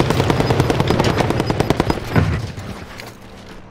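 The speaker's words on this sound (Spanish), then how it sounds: "viene el helicóptero" A helicopter in the video game Call of Duty Warzone approaches with a steady, loud rotor chop, mixed with bursts of gunfire.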